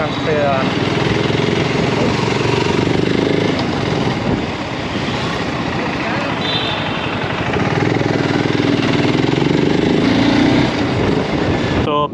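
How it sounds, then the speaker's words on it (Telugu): A BSA Gold Star 650's 652cc single-cylinder engine drones loud and steady while the motorcycle is ridden, with wind rush mixed in and a voice talking over it throughout. "652cc సింగిల్ సిలిండర్ బైక్ వస్తుంది అనమాట"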